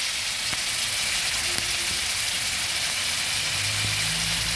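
A paste of cumin and coriander powder mixed with water sizzles in a frying pan over fried onions, giving a loud, continuous close hiss that holds steady throughout.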